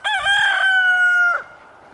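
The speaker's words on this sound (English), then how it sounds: "my rooster will probably continue to crow because he's annoying like that" A farm rooster crows once, loud and close: a single drawn-out cock-a-doodle-doo of just over a second that ends abruptly, followed by quiet outdoor background.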